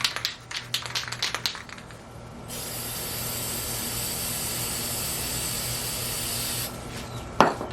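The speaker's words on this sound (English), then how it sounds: "What I'm doing is just spraying some white spray paint into here." White spray paint hisses from an aerosol can into a bucket in one long, steady, bright spray of about four seconds, preceded by some rubbing and rattling handling noises and followed by a short clunk.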